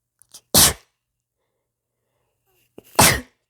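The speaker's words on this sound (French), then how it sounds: "Je suis désolée, je vais éternuer." A woman sneezes twice, loud and close, with two sharp bursts about two and a half seconds apart and near silence between them.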